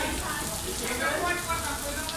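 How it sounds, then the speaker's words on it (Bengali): Rain pours down in Dhaka in an even, sizzling wash of drops close by, with a hint of voices in the background. "আমি দেখতে পাচ্ছি বৃষ্টি এবং বৃষ্টি হচ্ছে।"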